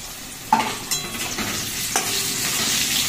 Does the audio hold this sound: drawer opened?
no